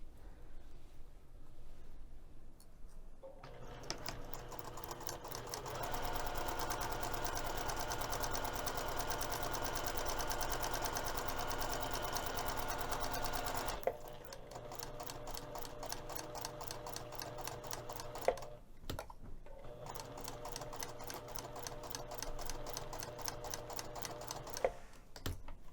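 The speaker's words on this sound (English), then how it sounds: "we're going to be sewing both of the long edges as well as this curved edge over here." Sewing machine running seams along the long and curved edges of a messenger bag with a quarter-inch allowance: a long continuous whirring stitch run, then shorter stop-start runs with small clicks, close and steady with no talk.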